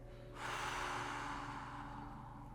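A slow breath pushed out through the mouth during a guided breathing exercise, a soft airy rush beginning after a short pause and easing off gradually, close and steady with no talking over it.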